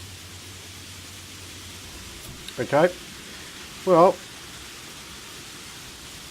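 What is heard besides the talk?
rain falling, from the video game Planet Nomads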